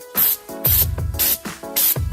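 Spray texture hissing from an aerosol can in four short bursts with brief pauses between them, loud and close, used on a compact painted subwoofer cabinet.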